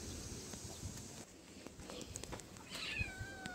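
Several small kittens, abandoned alongside a grey mother cat, give faint, thin meows at close range over rustling and shuffling outdoor background noise.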